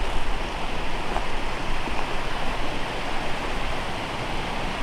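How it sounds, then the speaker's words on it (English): A river flows steadily beside a brushy trail leading to a waterfall, a dense, continuous rushing wash of water that fills the whole scene without pause. "Yeah, the river's flowing good."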